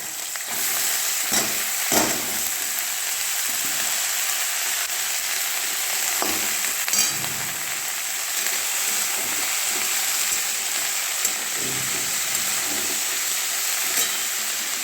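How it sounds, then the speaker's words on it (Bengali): Palak spinach sizzles as it fries in a pan, a continuous hiss with occasional stirring clatters throughout, close and fairly loud. "দেখো এটা ফ্রাই হচ্ছে।"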